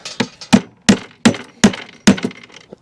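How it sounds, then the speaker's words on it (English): Five or six sharp, evenly spaced hammer strikes seating a screw ring out close by, each a hard metallic knock with a brief decay. "Go ahead and hit your hammer to make sure it's fully seated."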